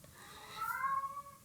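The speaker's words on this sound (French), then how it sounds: "Ça c'est mon chat qui rouspète." A cat gives a short, faint, drawn-out grumbling meow nearby, alone and brief.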